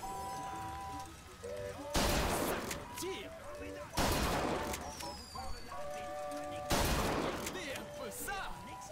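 Rifle gunfire in a video game: three loud, broadband shots at roughly two-second intervals, each with a short decay, set among steady game music and tonal effects.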